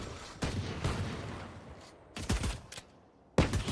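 Pistol shots in the tactical shooter Valorant during an esports grand final, three sharp cracks spaced apart with quieter game noise and brief silences between them.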